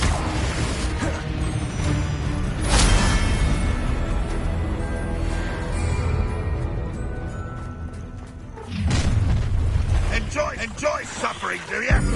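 Repeated Confringo fire-spell blasts in a Hogwarts Legacy duel, a dense, continuous barrage of explosive bursts and crashes with a sharp impact near the start and another loud surge toward the end.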